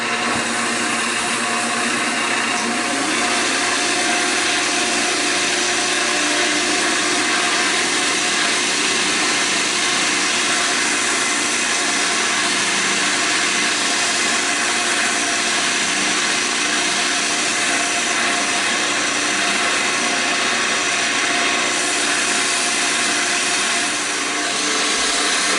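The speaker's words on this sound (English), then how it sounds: "so now we can just buff that to a shine" A textured, ebonized woodturning piece spins on a lathe while wax is buffed to a shine, giving a steady, loud whirring hum with broadband friction hiss that holds continuously throughout.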